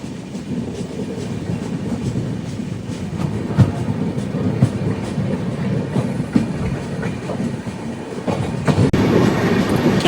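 A passenger train bound for Udaipur on the Western Railway zone rolls along the rails, giving a steady, close rumble with a faint clickety-clack of wheels over joints throughout.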